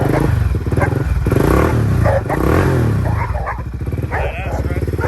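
Can-Am DS650 ATV engine sputtering and revving as it fires up, loud rough throbbing close by with a dog barking and someone talking over it.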